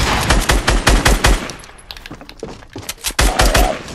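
Machine gun fire in a video game, loud rapid bursts up close, a short lull with scattered impacts, then more bursts.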